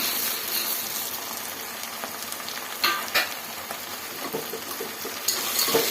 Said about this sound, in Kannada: ಇವಾಗ ಆಯಿಲಲ್ಲೇ ನೋಡಿ ಈ ಥರ ಫ್ರೈ ಮಾಡ್ಕೊಬೇಕು